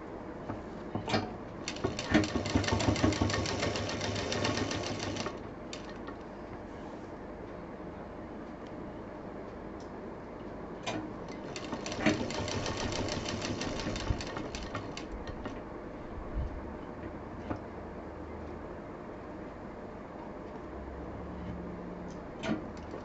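A sewing machine stitching fabric patchwork pieces at pinned seams, running in two fast, rattling bursts of several seconds each, separated by quieter pauses with occasional clicks and handling sounds.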